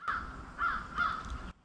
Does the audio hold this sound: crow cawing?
yes